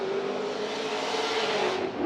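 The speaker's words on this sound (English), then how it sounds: "Listen to that exhaust note, very consistent, sounding very confident with his throttle." A Chevrolet Lingenfelter Corvette drift car at Formula Drift Wall qualifying holds a loud, steady, continuous exhaust roar on throttle, running without a break for about two seconds with no talk over it.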